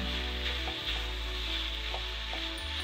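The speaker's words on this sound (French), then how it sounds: "vous écrasez bien, comme ça cuit. Voilà, on mélange bien" Lasagna sauce cooking in a pan, stirred and mashed while it simmers, a steady loud sizzle with a few soft scraping stirs mixed in, close up with no voices.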